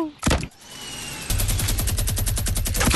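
A minigun rattles in Fortnite, a long sustained burst of rapid-fire shots kicking in after a brief loud pop, continuous and close, with light talk over the gunfire.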